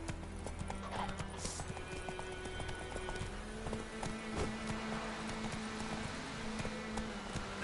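Hooves of the horse in The Witcher 3 game galloping in a steady clip-clop rhythm, with a brief whinny, a faint rain-like hiss and low game music underneath.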